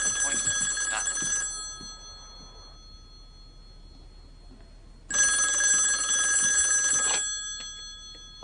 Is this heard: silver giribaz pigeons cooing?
no